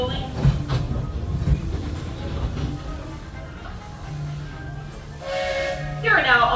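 Walt Disney World Railroad train at Magic Kingdom rolling along slowly with a steady low rumble and clatter, a hiss of steam toward the end.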